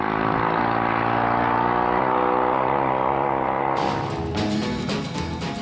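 Vintage British motorbike engine running with a steady, droning harmonic hum, loud and even throughout, shifting to a rougher, brighter rasp near the end as revs change.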